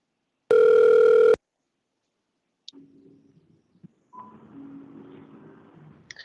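Telephone line of a radio call-in show connecting a caller: a loud, steady ring-like tone sounds once, then after a pause come faint clicks and a low hum of the line opening.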